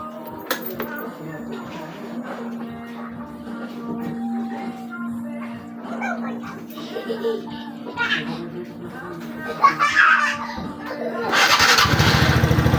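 A TVS Ntorq 125 scooter engine, freshly serviced with a cleaned CVT, airbox and filter, idles with a steady hum and revs in uneven bursts, ending in a loud roaring surge near the close.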